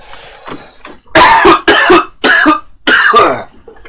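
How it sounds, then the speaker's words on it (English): A man coughs several times in quick, loud, close bursts, with a little throat clearing at the start, while pausing from casting miniature parts for Warhammer 40,000. "Excuse me, I'm going to cough."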